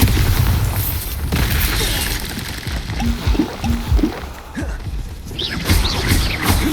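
A Bombarda blast spell erupts in Hogwarts Legacy, a loud low boom with bursting pops amid ongoing combat noise, repeated impacts thudding through the fight.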